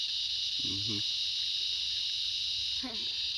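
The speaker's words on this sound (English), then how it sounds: "The cicadas." Steady, loud high-pitched cicada drone fills the whole clip, with a couple of brief low voice-like murmurs underneath.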